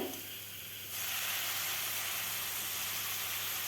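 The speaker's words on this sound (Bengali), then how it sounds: "লঙ্কা গুঁড়ো সামান্য কালারের জন্য দিয়ে আবারও ভেজে নেব মশলা থেকে যেন কাঁচা গন্ধ চলে যায়" Spice masala with cumin powder and chili powder fries in a pan for a fish roe and taro curry; a moderate sizzle swells sharply louder after about a second and then holds steady up close.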